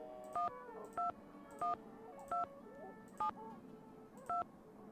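Phone keypad tones from the Nancy Drew Danger by Design video game: six short, evenly spaced dialing beeps sound clearly and alone over a faint background.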